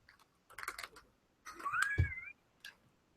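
A crisp bag rustles and crinkles close to the microphone in two short bursts of crackling, with a brief tap and a quieter rustle after.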